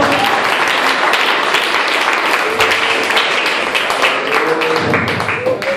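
Church congregation applauding during an evangelistic service, loud, close, sustained clapping with sharp individual claps standing out in the dense roar.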